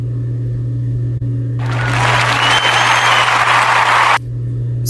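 A canned clapping-hands sound effect from a podcast app plays as a dense burst of applause lasting about two and a half seconds. Quiet hum comes before and after it.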